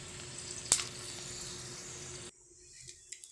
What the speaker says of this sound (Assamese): শুকান জলকীয়া দুটা ভাজা হৈ গৈছে